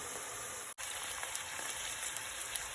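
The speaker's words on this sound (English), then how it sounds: "as the onions have browned nicely, I'm just going to add the courgettes to the pan" Chopped courgettes added to browned onions in a pan give off a faint, steady sizzle and fine crackle throughout, with one brief dropout near the start.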